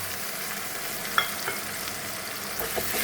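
A spice paste of ground onion, chilli, cumin and ginger fries in a pan for a Bengali fish curry, giving a steady close sizzle with a few sharp clicks and light stirring scrapes.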